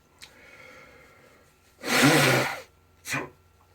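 A single loud, close sneeze burst, followed moments later by a shorter sharp exhale or sniff, with quiet around it.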